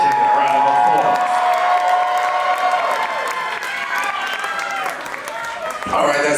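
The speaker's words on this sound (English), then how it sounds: "Give the legend a round of applause." A crowd applauding and cheering for a drag performer at a live show, with a dense, loud wash of clapping and whoops that holds steady throughout, a voice audible over it.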